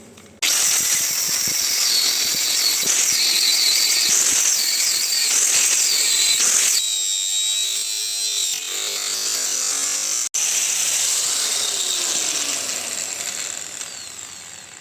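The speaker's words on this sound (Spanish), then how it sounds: "Voy a cortar la estría de aquí, que la tenemos aquí." A power tool grinds and cuts through a metal spline shaft from a BMW half-shaft, a loud sustained high-pitched squealing whine that shifts pitch midway, breaks off sharply for an instant, then resumes and slowly fades.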